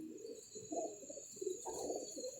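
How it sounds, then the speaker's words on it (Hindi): Pigeons cooing close by in a pigeon-keeping setting, several low soft rolling coos following one another, with a steady high-pitched hum in the background. "लो जी देखें जी, ये सिंपल से कबूतर है"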